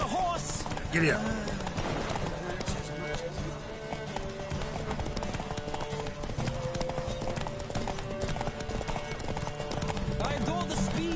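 Horse hooves clip-clop at a steady gallop throughout a Witcher 3 horse race on Zerrikanian Bay, with several horses running, one whinnying, and riders shouting over the steady rhythm.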